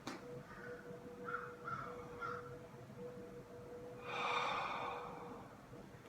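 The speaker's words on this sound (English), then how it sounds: "So I just want you to watch how I breathe." Deep breathing demonstration, slow audible breaths with one long rushing exhale standing out over a quiet room hum, no speech.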